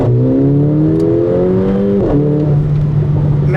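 A Mercedes AMG GLA45 in Sport Plus accelerates hard, its engine revving up loudly through a rising pitch, dipping briefly at a gear change, then climbing again, close and alone.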